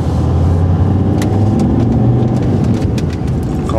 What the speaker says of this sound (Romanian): se aude motorul înăuntru